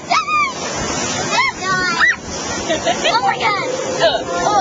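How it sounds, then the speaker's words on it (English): Rushing white water surges and splashes around a raft on the Grizzly River Rapids ride at California Adventure, loud and close, while riders shout and scream excitedly over the churning water. "come the rapids"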